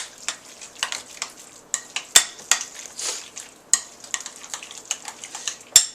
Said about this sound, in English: So we give that a nice little mix here.